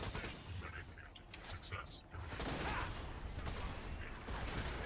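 Rapid gunfire from the Cepheid weapon in Borderlands 2, a dense, noisy stream of fast shots with mechanical clatter and booming impacts, continuous and loud throughout with a brief dip midway.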